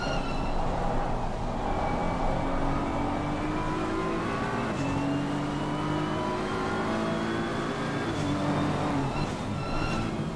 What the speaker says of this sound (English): Darren Miller's trying to catch the sliding BMW.